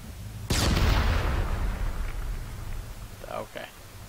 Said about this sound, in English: Fire in the hole, explosion.